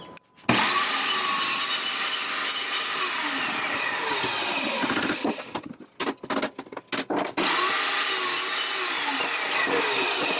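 Hand saw cutting wood for a whirligig: loud, close, rhythmic rasping strokes run steadily, break into short choppy strokes in the middle, then resume their even back-and-forth.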